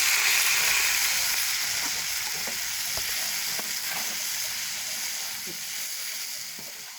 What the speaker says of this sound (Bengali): এখন আমরা নুডলস গুলো দিয়ে দিতে আসি।